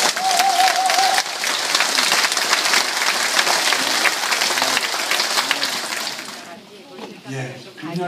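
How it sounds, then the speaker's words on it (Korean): Audience applause at a 2015 concert marking the 70th anniversary of Korean liberation, honoring Kim Gu: dense, loud sustained clapping from a large crowd that fades out near the end, followed by a voice beginning to speak. "선생님 다시 한번 박수."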